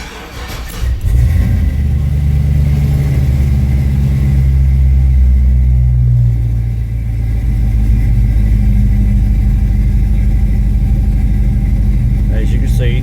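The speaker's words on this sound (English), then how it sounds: "Alright, we're going to start it up now." A 1973-87 Chevy C10 truck engine still on the stock tune carried over from a Suburban cranks and catches, then settles into a loud, steady, slightly high idle rumble that runs close and unbroken.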